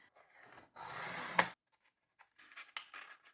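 A Cricut card insert piece is trimmed down in one short cutting pass lasting under a second, close and fairly loud with a sharp snap at the end, followed by quieter paper handling rustles.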